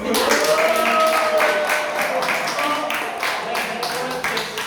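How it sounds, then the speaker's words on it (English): A Toastmasters club audience in Jakarta claps after a speech, with fairly loud, rapid clapping running throughout while a person talks over it. "Give a big round of applause for those side."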